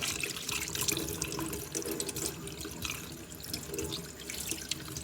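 Mackerel being washed under running tap water in a sink, a continuous splashing flow with small drips, close and steady, no talking.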